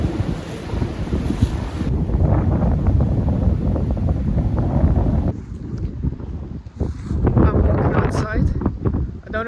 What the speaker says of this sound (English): I don't know if you can hear me very well because the wind is blowing very, very bad.